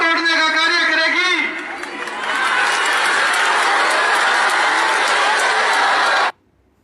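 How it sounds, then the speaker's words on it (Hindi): A crowd claps and cheers in a steady, loud roar that lasts several seconds after a brief voice at the start, then cuts off abruptly. "सामने मूर्खों की भीड़ की तालियां, उनके जयकारे तो आप सुन ही रहे हैं"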